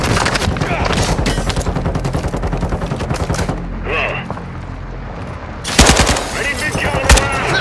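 Rapid automatic gunfire crackles in dense, loud bursts during a Call of Duty Warzone DMZ match, briefly easing before sharp, heavy shots return near the end.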